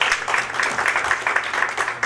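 An audience at a forum applauds its speakers with a steady, dense patter of clapping from many hands that lasts the whole short stretch, with no voices above it.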